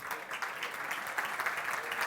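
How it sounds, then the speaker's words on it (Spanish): Audience at a conference talk on quality in teams welcomes the speaker with steady applause, many hands clapping in a continuous, fairly soft wash from a moderate distance. "Vamos a recibirla a Claudia con un fuerte aplauso"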